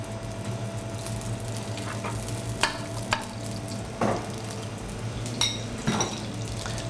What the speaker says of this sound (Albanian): shtojmë gjalp